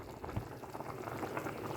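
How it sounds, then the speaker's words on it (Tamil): Mutton curry bubbles at a rolling boil in a pot, a close, continuous soft gurgling and popping without any speech. "மட்டன் வந்து நல்லா கொதிச்சிட்ருக்கு"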